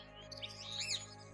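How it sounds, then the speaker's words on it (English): Birds chirp and tweet in a few short, quiet calls over a faint steady background, with no voices. "Sometimes you hear whistles, tweets, and chirping sounds in a specific rhythm."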